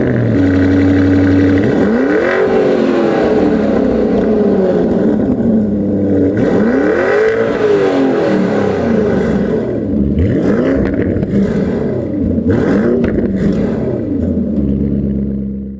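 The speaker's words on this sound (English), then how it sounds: "Let me start the car. We do a little sound check now." An ABT-tuned Lamborghini Urus SUV engine fires up and is revved several times, loud and close, with rising and falling swoops of the exhaust between idling stretches.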